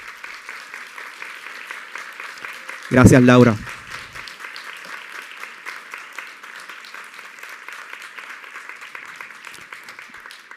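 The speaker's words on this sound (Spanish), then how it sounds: "quiero pedirle un fuerte aplauso a la registradora de la colección" A short, loud burst of audience applause, about a second long, at a talk on eradicating racial prejudice in Puerto Rico, with a spoken voice before and after it.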